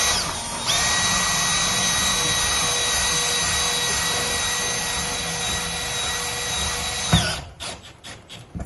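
A power drill drives a self-tapping screw into a greenhouse side vent screen, a loud steady high whine running about six seconds before stopping abruptly, followed by a few faint clicks and handling sounds.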